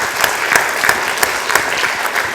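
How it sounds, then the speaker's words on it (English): Audience applause at a public-sector forum on intrapreneurship, a steady dense patter of many hands clapping with a few sharper claps standing out, sustained and fairly close throughout. "Please give them a round of applause"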